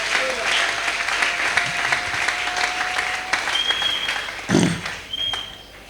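Congregation at a Sunday church service breaking into sustained applause, a dense crowd of clapping hands that swells and fades slightly over several seconds, with a brief vocal shout and some tonal background sound mixed in.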